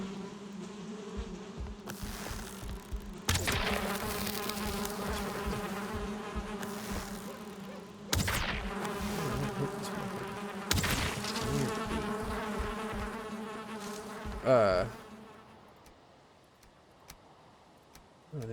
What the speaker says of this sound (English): oh, we got a bee nest in here.